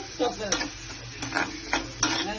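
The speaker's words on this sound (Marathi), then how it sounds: "त्यानंतर टाकायचं आहे कांदा। कांद्याला चांगलं पोळायचं आहे।" Onion sautéing in a pan for a Marathi festival bhaji, with stirring scrapes and light clinks recurring about every half second over a low sizzle, close and moderately loud.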